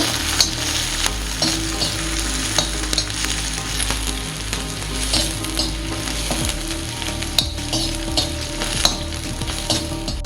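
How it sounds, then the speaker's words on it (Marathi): Onion fries in hot oil in a pan for spicy misal, a loud steady sizzle punctuated by frequent spatula scrapes and taps, close up and without talking. "आता अगोदर कांदा टाकू. कांदा थोडासा लालसर करून घ्यायचा."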